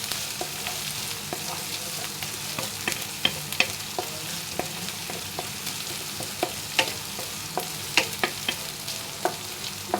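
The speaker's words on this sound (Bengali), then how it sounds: "এভাবে এটাকে সুন্দর করে ভেজে নিব, বাদামি কালার না হওয়া পর্যন্ত" Onion, garlic, chili and ginger paste frying in a pan until browning, a steady soft sizzle broken by repeated scraping stirs and light clicks of the utensil, close up with no voices.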